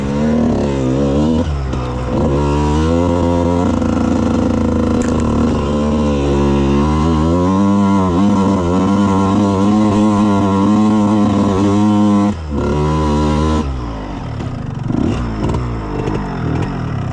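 A Suzuki RM125 two-stroke dirt bike being ridden on a trail, its engine close and loud, revving up and down repeatedly with a brief drop in the middle before picking back up.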